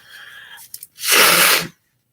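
A single loud, close sneeze bursts out after some quiet breathy sounds, from a person troubled by morning allergies, then the sound cuts off into silence.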